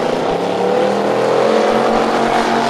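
Race cars run around an oval track at a grand opening event, giving a steady, loud engine roar that holds throughout with no break, with no voices over it.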